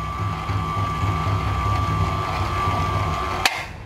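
A 220V PA200 electric winch runs steadily and quietly after release, a smooth continuous mechanical hum with faint ratcheting texture, ending in a single sharp click near the end.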